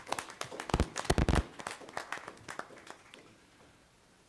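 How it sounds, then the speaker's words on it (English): Scattered clapping from a small school board meeting audience honoring educators, a few close hand claps that thin out and fade toward the end. "So let's give all of our educators a round of applause."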